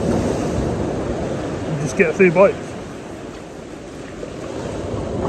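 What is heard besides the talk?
sea waves splashing against the sea wall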